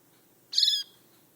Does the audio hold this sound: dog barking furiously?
no